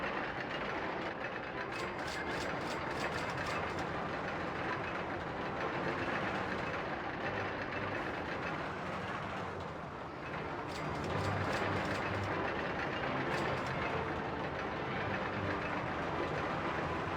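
A roller coaster in RollerCoaster Tycoon rolls along its track in the Crumbly Woods park, a steady rumbling clatter of cars on rails that continues throughout with a slight dip midway, no talking.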